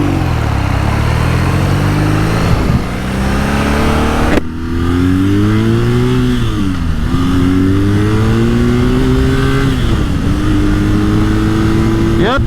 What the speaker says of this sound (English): she gets up to speed really quickly. One of the defining characteristics of the BMW R9T is its potent engine